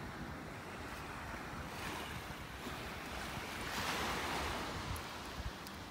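Ocean waves wash onto a beach in North Naples, Florida, a steady broad surf roar with wind buffeting the microphone and no voices.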